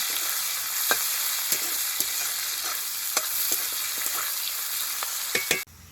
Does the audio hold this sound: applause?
no